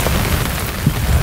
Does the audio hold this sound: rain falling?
yes